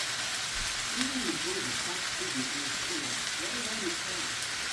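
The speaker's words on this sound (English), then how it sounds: "Add the tofu. Add a tad bit of garlic." Tofu and a little garlic going into a hot pan for chicken pad thai, giving a steady, close, broadband sizzle like rain on a surface throughout, with faint low voice-like murmurs underneath.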